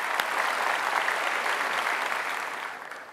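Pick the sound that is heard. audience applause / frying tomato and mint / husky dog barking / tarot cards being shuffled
audience applause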